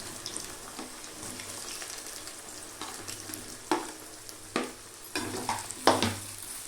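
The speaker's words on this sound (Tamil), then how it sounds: "அதை அப்படியே பொரிச்சு வச்ச எண்ணெயில் போட்டுக்கலாம்" Potato pieces cut for a lemon rice side dish fry in oil already used for frying, giving a quiet background sizzle with occasional louder scrapes and stirring clatters toward the end.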